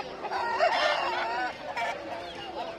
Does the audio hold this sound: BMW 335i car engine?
no